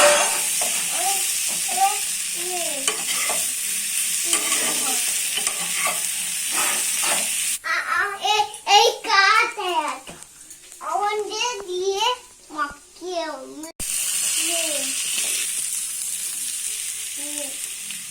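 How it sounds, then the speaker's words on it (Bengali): Diced potatoes with cumin seeds fry over a low flame, a steady sizzle with a spoon stirring the pan, while a child and an adult chatter over it in the middle section. "এটা শুধু ভাজা ভাজা এরকমই হবে। হালকা শুধু নাড়তে থাকবো, কম ফ্লেমে এটা রাখা।"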